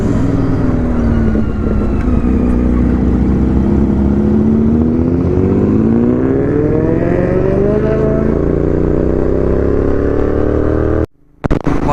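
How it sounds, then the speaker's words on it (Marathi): A BMW S1000 RR sport motorcycle on a Sunday group ride revs loudly and close, its engine pitch climbing and falling in long sweeps, continuous and alone, then cutting off abruptly near the end. "साउंड सुनो, साउंड BMW S1000 RR."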